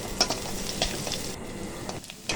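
Chopped onions fry in mustard oil over medium heat, a close, steady sizzle punctuated by a few clinks and stirring scrapes, brief and without talk.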